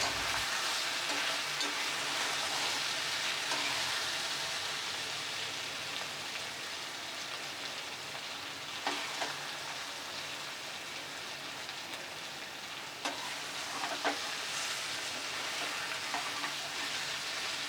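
Continuous crackling sizzle of Malabar spinach (pui shak) frying in a pan, with a few louder pops and stirring clatters, no voices.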